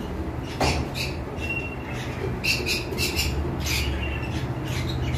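Blue lovebirds in a breeding setup with nest boxes give sharp, high squawks and chirps in scattered bursts, some close and some further off, over a low steady background hum.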